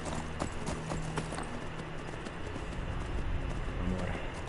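A horse trots in Skyrim, its hooves clip-clopping in a steady rhythm against a continuous background hum of the game.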